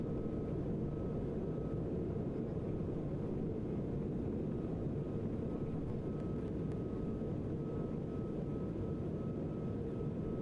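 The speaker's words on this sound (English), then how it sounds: "It's a Dreamliner, Air India Dreamliner, I guess. It's a big flight." Steady, broad cabin roar of an Air India Boeing 787 Dreamliner climbing after takeoff, heard from a window seat: a dense, even low rumble with a faint constant tone above it, continuous and unchanging throughout with no talking.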